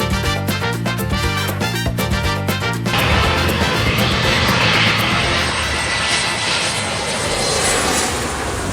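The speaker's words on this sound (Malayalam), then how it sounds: "വെസ്റ്റ് ജെറ്റ് എന്ന് പറഞ്ഞൊരു കമ്പനിയുടെ ബോയിങ് 737 വിമാനമാണ്" A WestJet Boeing 737 jet engine roars from behind at Maho Beach, a loud, steady broadband blast that swells in after a few seconds of music and holds strong to the end.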